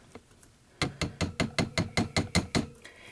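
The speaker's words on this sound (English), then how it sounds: "then just gently forge around the loop" A hammer forging a wire loop on an anvil: about a dozen sharp, ringing metallic strikes in a quick, even rhythm, close and clear, after a few lighter taps.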